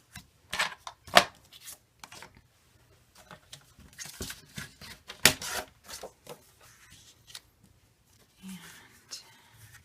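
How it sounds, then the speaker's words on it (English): Blade scoring gray material before cutting it to size, heard as a run of short scratchy strokes at close range, some sharp and loud, others faint, in irregular bursts. "just scoring where I want to cut it"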